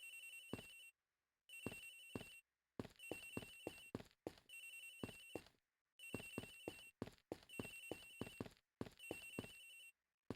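A phone in a room rings in the Ace Attorney Investigations video game, a clear electronic ringtone repeating in bursts with short silent gaps, steady and fairly close, with no voices.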